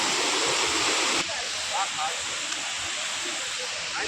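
Steady broadband rush of the Savatsada waterfall at Chiplun, softer after the first second, with a faint voice briefly rising over the water.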